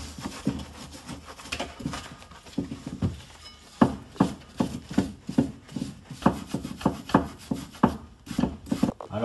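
A small wire brush scrubs dust off a brake caliper while rear brake discs are changed, giving repeated rhythmic rasping strokes, fairly close and steady, with no talk.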